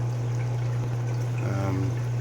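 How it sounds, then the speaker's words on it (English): A Reef Octopus Classic 2000 protein skimmer runs in a 180-gallon saltwater aquarium, giving a steady low electrical hum under a continuous watery bubbling and trickle, close and constant with a brief gurgling swell near the end. "I'm running my Reef Octopus Classic 2000 protein skimmer."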